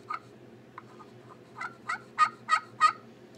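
A handmade wooden turkey pot call, built in a school wood shop, scratched into a series of short yelps that grow louder and more regular toward the end, close and alone over faint background hiss.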